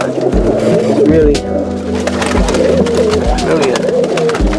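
Roller pigeons coo softly amid a busy backdrop of other birds, with someone talking over the cooing throughout.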